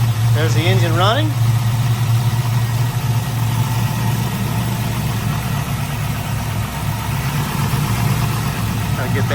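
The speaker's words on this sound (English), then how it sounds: "There's the engine running." A 1967 Camaro SS with a swapped-in LS2 V8 and six-speed manual idles steadily up close, a deep, even rumble throughout, with a voice briefly heard over it at the start.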